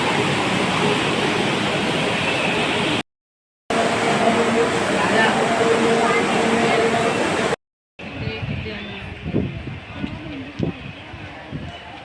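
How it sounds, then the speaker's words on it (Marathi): A forceful waterfall at a riverside spot near Khopoli roars as a loud, steady broadband rush, broken by two short gaps before a quieter stretch where people talk over it. "पाण्याचा एवढा आवाज आहे एवढा फोर्स आहे"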